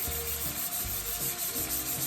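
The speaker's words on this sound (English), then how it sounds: "you're gonna take your sanding block and you're gonna start scrubbing it" Sanding block scrubbed steadily back and forth against a metal tumbler, a continuous close gritty rasp with a regular stroke rhythm and no talking.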